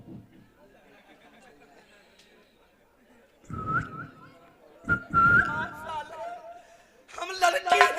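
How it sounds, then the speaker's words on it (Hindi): Someone whistles a few short rising and wavering notes during a Hindi folk nautanki stage performance, heard amid lively voices and chatter, moderately loud and close. "ये क्या सीटी बजा रहे हो?"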